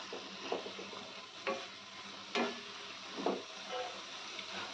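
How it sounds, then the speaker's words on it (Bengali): Masala is fried and stirred in a pan while cooking a Bengali fish dish: a soft, steady sizzle runs throughout, with several spoon-scrape strokes against the pan at irregular intervals and no talking. "এবার এই মশলাটাকে একটু ভালো করে কষিয়ে নেব।"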